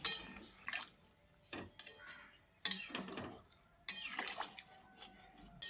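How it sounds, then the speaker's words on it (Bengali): A spoon stirs vegetable-boiled water into a pan of shukto, a Bengali mixed-vegetable dish, with a few separate scraping clinks of metal against the pan among quiet pauses and soft liquid sounds. "জলটা দিয়ে ভালো করে মিশিয়ে নিচ্ছি।"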